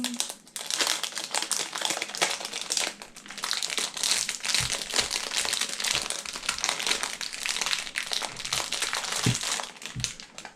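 Plastic packaging is crinkled and pulled off a Dayan Tengyun M puzzle cube, giving a continuous close crackling and rustling with a few sharper crunches, no talk.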